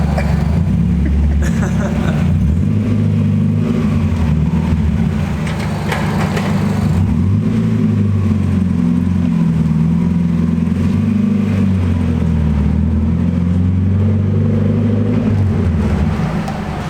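Mazda Miata being driven, its engine a loud, steady droning hum with slight rises and falls in revs heard from inside the car for the whole stretch.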